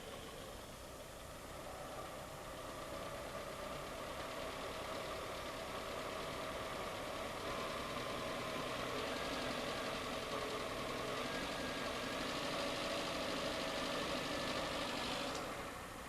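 An Austin Metro engine idles steadily after starting, a continuous mid-pitched rumble with a slight knocking pulse, holding level for the whole stretch with no voices.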